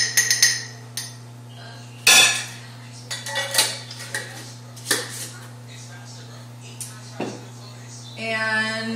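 A metal spoon clinks and scrapes against a bowl while homemade relish and its juice are spooned in, several sharp close knocks scattered over a steady electrical hum, with a person talking between them.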